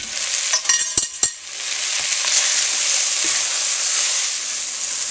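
Cajun spice scorches in a hot pan as a loud, even sizzle, opened by a few quick scraping clicks of stirring, then a steady hiss with no talk.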